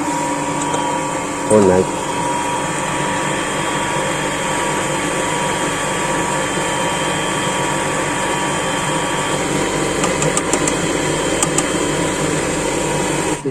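A clogged jet water pump with a torn pressure-tank membrane runs with a loud, steady mechanical hum and whine throughout, a brief clunk early on, and a short spoken remark over it.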